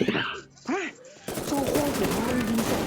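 Game gunfire in Free Fire, a steady stream of rapid shots from the first half onward with a voice talking over the start.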